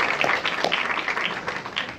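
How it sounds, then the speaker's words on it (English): A round of applause from the audience at a sickle cell awareness talk after a doctor is introduced: steady, dense clapping from many people, moderately loud and continuous, with no speech over it. "Big round of applause."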